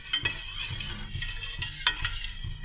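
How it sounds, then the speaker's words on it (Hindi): A spoon stirs saffron into warm sugar syrup for gulab jamun in a pan, with close scraping and clinking strokes in an uneven rhythm over a soft bubbling background, with no talking. "और इसको मिक्स कर देंगे।"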